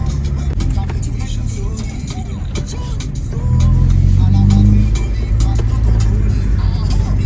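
Steady engine drone from a Honda Accord 6 with a 1.8 l, 136 hp engine, driving in third gear and climbing a hill without strain, heard from inside the cabin with a brief swell in revs partway through, under muffled road noise.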